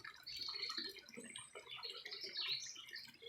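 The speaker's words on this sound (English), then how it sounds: "bubbling water flows past rocks and over smaller rocks" Bubbling water flows over rocks and smaller stones in a gentle natural setting, a steady trickling burble with soft splashing detail, continuous and fairly close throughout with no voices.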